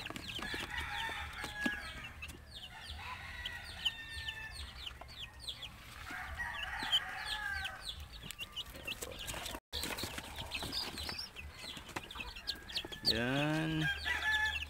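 Chicks and chickens cluck nearby in frequent short bursts, with brief chirps and a single drawn-out call near the end, over a quiet background.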